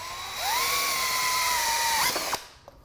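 A power drill drives a screw into pallet wood for a smokehouse build, one steady whirring run with a rising pitch, then a quick stop and a click, close and loud.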